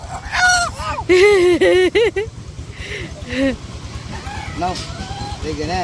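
A farm rooster squawks and shrieks loudly in repeated harsh bursts while being caught, with people talking nearby between the cries.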